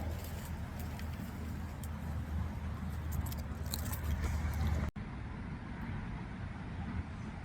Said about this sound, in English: I really gotta wait till the cars die down